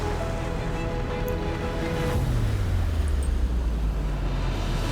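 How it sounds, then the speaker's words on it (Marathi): Continuous roar of sea surf surging and breaking on rocks nearby at Padmadurg sea fort, Murud, with a low engine-like rumble running beneath the wash of water. "तिथे असणाऱ्या कातळावर ज्या लाटा आपटत होत्या"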